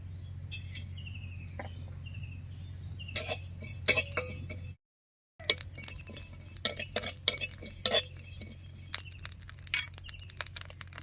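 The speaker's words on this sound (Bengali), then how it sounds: "শুকনো খোলায় একটুখানি মশলা ভেজে নেব" Whole cumin and coriander seeds are dry-roasted in a wok. Sharp clinks of a spatula on metal mix with scattered small crackles and ticks over a low steady hum, broken by a short silence.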